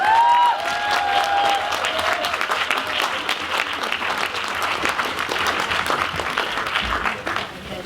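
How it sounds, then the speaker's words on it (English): An audience fills a large hall with sustained applause for a speaker taking the stage at a 2018 event, dense clapping throughout that fades slightly near the end, with a faint voice underneath. "make some noise for Lady Adele."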